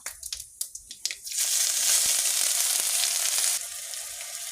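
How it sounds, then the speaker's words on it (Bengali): Sugar, dried chilli and whole spices go into hot oil. A few crackling pops come first, then a loud, sustained sizzle that eases off slightly near the end. "তেলে চিনিটা ফুটে উঠেছে দেখো তো ফোড়নটা দিয়ে দিলাম"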